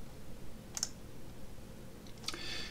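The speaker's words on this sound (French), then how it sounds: "Et je clique sur « Valider »" Two faint, crisp mouse clicks about a second and a half apart, the sound of confirming a 'Valider' button in Moodle, set against quiet room hiss.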